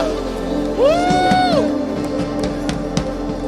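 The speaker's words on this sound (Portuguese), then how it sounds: "aplauda o Senhor nessa hora" A church congregation at a Portuguese-language worship service cheers and claps, with a loud whoop rising early and scattered claps continuing through the steady crowd noise.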